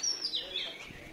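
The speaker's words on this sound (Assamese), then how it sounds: "লগতে চৰাইও কি ধুনীয়াকৈ মাতি আছে শুনিছেনে।" In a flower garden of blooming petunias, a small bird sings a brief bright chirping phrase with quick rising and falling notes. It sounds fairly close and clear over quiet background.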